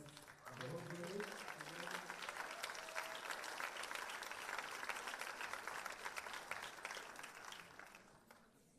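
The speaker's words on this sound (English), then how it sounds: "we will ask for a big round of applause to Nino Kamasi" Sustained applause from a festival audience at a film awards ceremony, dense steady clapping filling the room for several seconds after a brief voice at the start, then tapering off.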